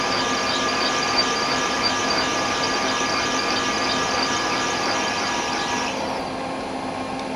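A high-speed rotor broach cuts through raw, CNC gas-cut steel, giving a continuous, even machining whine and grinding hum that drops away slightly near the end.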